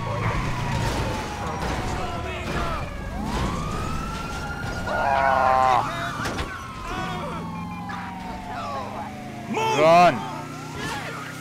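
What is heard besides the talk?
police car sirens chasing, from video game GTA 5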